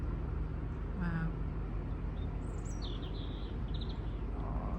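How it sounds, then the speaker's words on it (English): Birds chirp and sing in short, thin phrases on a sunny day beside a canal, faint and intermittent over a steady low rumble of engine and passing traffic. "can you hear the birds singing?"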